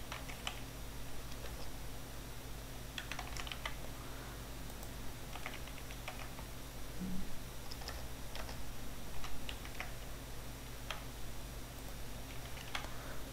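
Steady typing on a computer keyboard while card details are entered, with continuous close key clicks over a constant background hum.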